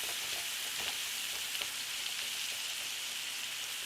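Steak sears in a pan, with potatoes cooking alongside: a steady, dense sizzle and spatter that stays loud and close the whole time, with no voices.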